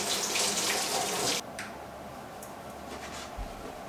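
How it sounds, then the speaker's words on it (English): Kitchen tap water runs steadily over a tomato being washed, a loud continuous splash that cuts off abruptly partway through, leaving faint drips and small clicks in a quiet room. "I'm gonna wash this tomato."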